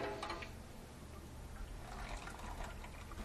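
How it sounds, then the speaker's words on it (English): Hot water pours steadily over bags of grain to rinse them while home-brewing an American pale ale, a continuous soft splashing rush with no pauses, faint and close. "start adding some of the hot water that we started boiling earlier and use it to rinse off the grain"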